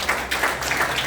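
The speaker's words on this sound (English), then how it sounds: "Big round of applause for him" Round of applause from a classroom of students, a steady wash of many hands clapping together at moderate volume for about a second, with no talk over it.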